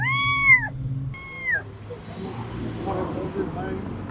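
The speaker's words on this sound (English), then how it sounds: "What's up with that cat" A pet cat gives two drawn-out meows close by at a family home, followed by a quieter stretch of rustling background noise.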